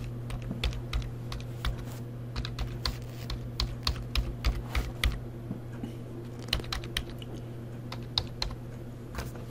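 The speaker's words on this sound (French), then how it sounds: "Et là, donc je tape des lettres" Letters typed on a computer keyboard while installing and using free fonts: a steady run of irregular, close key clicks over a constant low electrical hum, with no talking.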